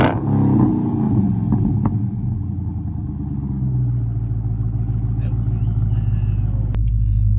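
A Dodge Charger Scat Pack 392 with a Borla exhaust, mid mufflers and resonators deleted, rumbles loudly at close range, with a rev flaring early before settling into a deep, steady idle growl.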